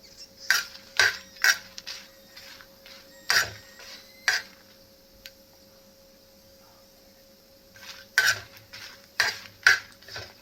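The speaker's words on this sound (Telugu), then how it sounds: "పెళ్ళపెళ్ళ సౌండ్ అనేది వస్తుంది, సౌండ్ మారుతుంది." Red chillies and drumstick leaves dry-roast in a hot clay pan. Close, sharp bursts of stirring and scraping come in uneven groups, with a light crackle, separated by near-silent pauses.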